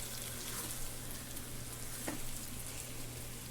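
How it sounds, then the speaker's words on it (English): A steady, dense crackle of pork chops sizzling in a pressure cooker on the saute/brown setting, even and continuous throughout, with no voices. "And you can hear it in the camera. It's sizzling."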